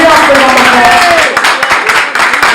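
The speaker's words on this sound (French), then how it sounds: "merci encore un tonnerre d'applaudissements pour cette brillante présentation" Audience applause at a press conference: loud, dense clapping from a crowd that runs steadily and begins to thin into scattered claps toward the end, with some voices mixed in.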